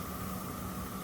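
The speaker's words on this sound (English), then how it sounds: "sizzling going on here" Thawed frozen food sizzling in an oiled pan, a dense, steady hiss filling the whole short stretch with no talk.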